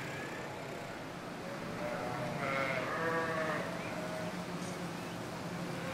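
Sheep in a clean barn let out a clear, wavering bleat close by, followed by a fainter second call, over a steady background hum.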